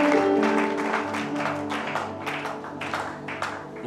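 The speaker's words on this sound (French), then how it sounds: "On applaudit donc la parole." A church congregation claps together for a few seconds, dense, steady applause that gradually thins out.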